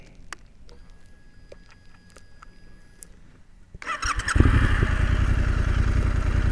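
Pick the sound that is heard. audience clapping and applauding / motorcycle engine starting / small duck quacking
motorcycle engine starting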